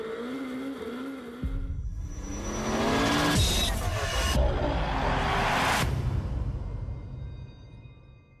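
Rallycross cars at the World Rallycross round in Höljes, Sweden race on track: a loud engine roar builds and swells as cars rev, accelerate and pass close by, with tire squeal mixed in, then fades near the end; no talk.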